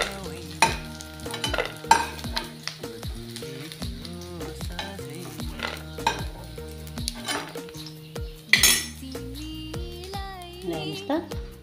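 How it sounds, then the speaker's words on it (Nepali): Fried paneer is lifted out of a pan onto a plate, with clinks and scrapes of a utensil against metal and dishware over a faint sizzle, and a voice speaking intermittently. "अब यसलाई म प्लेटमा निकाल्छु।"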